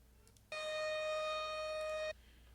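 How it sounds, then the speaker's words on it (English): A steady, tonal siren-like drone with bright harmonics sounds alone for about a second and a half, then cuts off abruptly. "A deep, bellowing siren."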